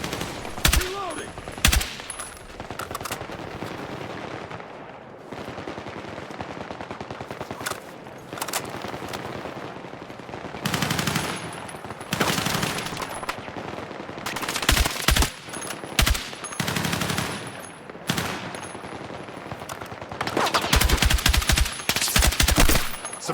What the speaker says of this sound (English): Suppressive fire, reloading.